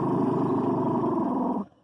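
A dog growls and barks at night in a pitch-black cemetery, a loud, continuous rumbling growl held close for over a second and a half before cutting off abruptly into silence.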